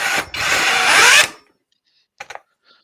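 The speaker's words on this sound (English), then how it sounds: "with this drill" A cordless drill whirs loudly for just over a second and then stops, followed by a couple of faint clicks.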